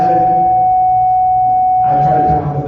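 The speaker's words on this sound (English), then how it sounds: "try to turn off the bells. I don't know how to do it yet." An electric school bell at a Veterans Day program rings a steady, loud, unbroken tone that fills the room, with a burst of extra noise near the end.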